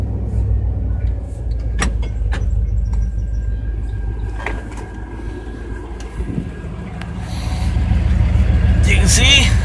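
A 1989 GMC truck with a busted passenger-side drive shaft started up and running in four low, a loud steady engine rumble with clunks and knocks, growing louder toward the end.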